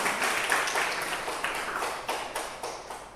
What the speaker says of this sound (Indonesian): Tepuk tangan untuk BMA.